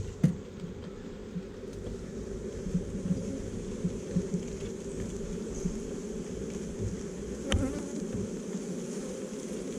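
Honey bees buzz around hive frames in a dense, continuous drone with no speech, a few individual bees passing close to the microphone.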